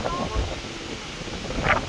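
Strong wind gusting at Umrangso in Assam, a steady rough rumble buffeting the microphone throughout, with a voice speaking faintly beneath it.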